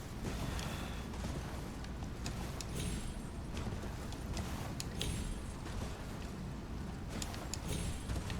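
Galloping horse hooves in Elden Ring, a steady rapid clip-clop under a dense, constant game soundscape with creaking and mechanical noise, no talking.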